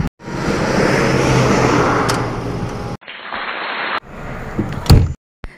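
A car door slams shut as people get into a vehicle on a hot day near Fujairah, with a steady engine or road rumble first, then muffled cabin sound and a sharp thud near the end.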